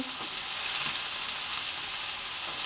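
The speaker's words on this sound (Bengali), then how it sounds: "এগুলোকে কড়াই দিয়ে দিচ্ছি ভালো করে নেড়ে চেড়ে একটু লাল লাল ভাজা হলে" Radish, potato and eggplant pieces fry in a kadai, giving a bright, steady sizzle that stays close and loud from start to finish.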